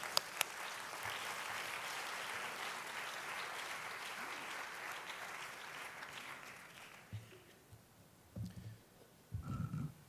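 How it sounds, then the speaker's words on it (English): A college audience claps after faculty are introduced at a collegewide fall opening meeting, sustained applause for about seven seconds that fades out, followed by a speaker beginning to talk. "Let's give them a round of applause."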